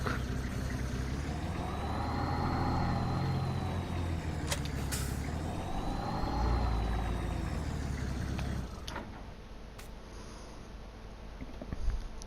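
A large truck tray drops off the back of a 2020 6.7L truck in a video game, with a steady heavy engine rumble and air brake hisses partway through, then a quieter idle.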